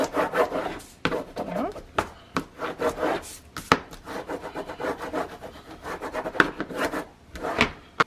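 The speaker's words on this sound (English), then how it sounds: "Okay, let's burnish this." Paper for a handmade ephemera album cover is rubbed down with a burnishing tool, giving repeated close, scratchy back-and-forth strokes in an uneven rhythm, with occasional sharper taps, and no voices.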